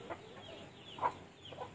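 Dekalb laying hens cluck softly inside a free-range chicken house, several faint, scattered calls over a quiet background with no speech.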